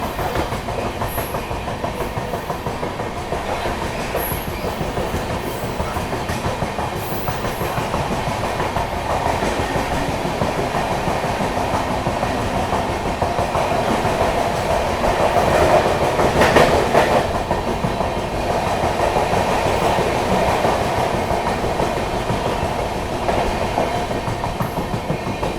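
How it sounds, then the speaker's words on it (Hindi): Gorakhdham Superfast Express rolls through Tundla Junction without stopping, a steady loud rumble of wheels on rail with clickety-clack from the carriages, swelling slightly midway and continuing evenly throughout. "यहाँ पर अपनी गोरखधाम सुपरफास्ट एक्सप्रेस ने टुंडला जंक्शन को भी स्किप कर दिया है"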